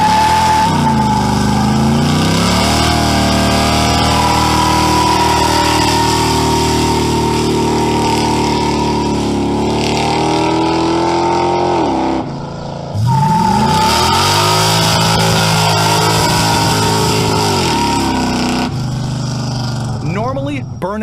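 A car doing burnouts revs its engine hard, loud and close, with long sweeping rises and falls in pitch, a short drop-off midway, then another sustained roaring run.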